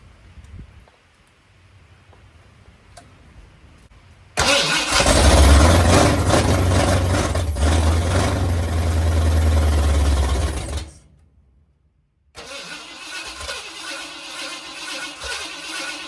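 A 1980 Ford F-150 with a built 351W V8 cranks and catches into a loud, rough run for several seconds, then cuts out abruptly. After a short silence a second, softer engine run follows, close by.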